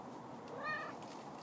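A house cat gives one short, faint meow close by over a soft background hiss.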